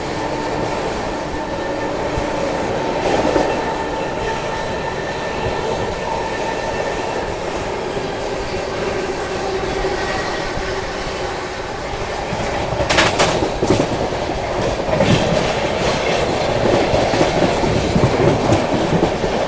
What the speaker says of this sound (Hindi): इतनी अच्छी ट्रेन 130 की रफ्तार में चल रही है